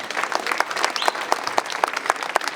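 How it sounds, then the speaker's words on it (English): Audience applause for World War II veterans at an NRA show, steady dense clapping from a crowd, loud and close throughout the short stretch with sharp individual claps standing out. "So for that, how about a round of applause?"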